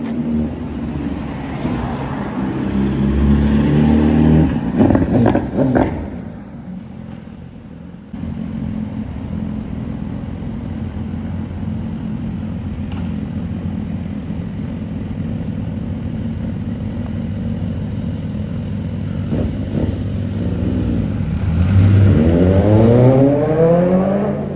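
A superbike engine revs on a street during an evening walk in Kelowna, its deep rumble climbing in loud rising sweeps at the start and again near the end, with a steadier idling drone in between.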